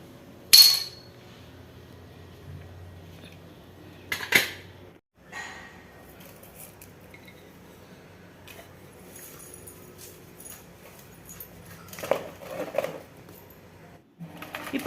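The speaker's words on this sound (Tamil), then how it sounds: "நான் கல்லுப்பு போட்டு கீரையை நல்லா கரைஞ்சிட்டேன்" Cooked spinach and lentils being mashed with rock salt in a clay pot, heard as sparse wooden knocks and scraping thuds against the pot at irregular intervals amid quiet pauses, close by.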